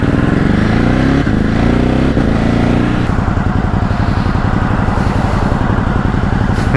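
A motorbike engine revving loudly up close while riding in traffic, rising through gears then settling into a steady throbbing drone.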